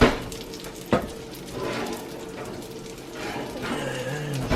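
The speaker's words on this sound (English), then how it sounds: "I'm cooking them basically in bacon fat" Pork schnitzel frying in bacon fat in a cast iron pan gives a steady close sizzle with crackling pops, a sharp spike near the start and a few louder bursts.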